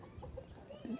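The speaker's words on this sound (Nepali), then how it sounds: "उहाँ कुखुरा छोडिदिँदै हुन्" Chickens give a few short, soft clucks nearby as they are let out of their coop in a Nepali village, quiet and brief.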